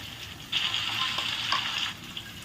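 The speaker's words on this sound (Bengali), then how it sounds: "মাছগুলো দিয়ে একটু তেলের ভিতরে এদিক ওদিক করে একটু নাড়াচাড়া করে নিয়ে নেব" Hilsa fish pieces stirred around in hot oil with onion give a short burst of bright sizzling that swells for about a second and a half, then drops back to a faint background hiss.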